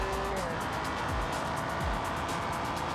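A police-version Lamborghini racing toward a giant car jump in a video game, a loud sustained engine drone with rising whooshes as it speeds along.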